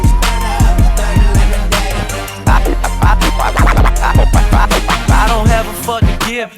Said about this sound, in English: using the scratch pattern to bring in a vocal